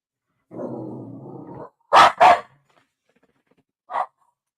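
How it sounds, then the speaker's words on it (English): A pet dog barks twice in quick succession, loud and close, then gives a single shorter bark moments later, following a stretch of steady background noise. "My dog was agitated by something outside."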